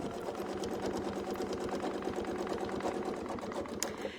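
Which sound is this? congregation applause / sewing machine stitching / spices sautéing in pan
sewing machine stitching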